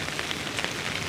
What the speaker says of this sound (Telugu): మాకు 15 రోజుల నుంచి కంటిన్యూగా వర్షం పడుతుంది.